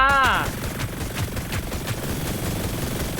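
Rapid bursts of gunfire in the shooter Hyper Scape crackle loudly in a fast, uneven rhythm. A brief voice is heard at the very start before the shooting carries on alone.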